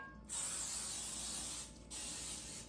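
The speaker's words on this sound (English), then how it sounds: "going to prepare it with some oil spray." Two bursts of aerosol oil spray hissing close up onto a Bundt pan, a long spray followed by a short pause and a second shorter spray.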